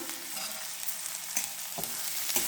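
Ridge gourd and coconut sauté in plenty of hot oil, a dense continuous sizzle close by, with occasional scrapes and stirs of a spoon in the pan.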